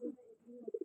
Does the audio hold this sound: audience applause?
no